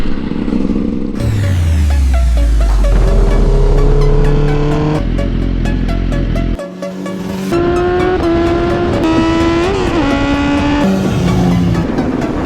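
An enduro motorcycle converted to supermoto runs loud and close, its engine pitch sweeping up through several gears with sharp revs, a brief cut near the middle, then more acceleration and gear changes.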